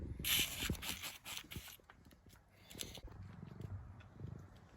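A domestic cat purring up close, a low continuous rumble that runs the whole time, with a burst of rustling, scraping handling noise near the start and no talking.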